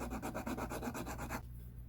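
A model part being filed and scraped by hand, a close, rhythmic rasping of about a dozen quick back-and-forth strokes that stops abruptly, with no talking.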